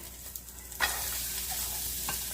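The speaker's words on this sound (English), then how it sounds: "we're putting our sun-dried tomatoes in, and our onions," Sun-dried tomatoes and onions drop into a hot pan, a faint background giving way to a sudden loud, steady sizzle that holds close and even, with a brief scrape near the end and no voices.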